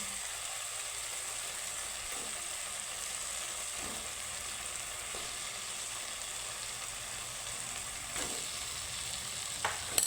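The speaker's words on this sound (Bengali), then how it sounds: "দিয়ে দিব আমি ভেজে রাখা আলু" Previously fried potatoes are stirred and sautéed with spice paste in a pan, a steady low sizzle broken by occasional scrapes of a spatula, fairly faint and close, with no voices.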